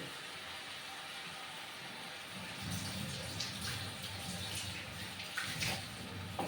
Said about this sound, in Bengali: এবার এর মধ্যে আমি জল দেব।